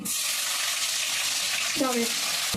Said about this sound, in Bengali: তেলের মধ্যে এখন দিয়ে দিই তেজপাতা, শুকনো লঙ্কা, এলাচ, এই যে দারচিনি আর লবঙ্গ দিয়ে দিলাম।